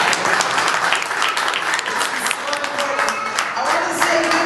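Audience applause at a community health and wellness program on prison re-entry, a steady wash of many hands clapping throughout the short stretch.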